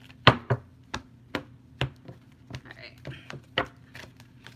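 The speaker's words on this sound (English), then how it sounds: "I can't shuffle these cards today." Tarot cards are shuffled in quick, uneven riffling taps and slaps, close and fairly crisp, with a soft voice murmuring between the bursts.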